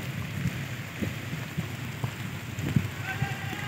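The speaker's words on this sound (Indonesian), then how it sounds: "Hujan lebat di Pelabuhan Sungai Kolah Kijang nih" Heavy rain falls at Sungai Kolah Kijang harbour in Indonesia, a dense continuous hiss with scattered drop patters and faint tonal background sounds, no voices.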